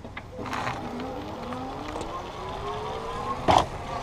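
An EG Zurich 350 IX electric bike accelerating under throttle, a faint electric motor whine rising steadily in pitch over wind and road noise, with a short bump near the end.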